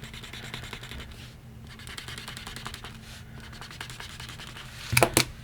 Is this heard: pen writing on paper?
yes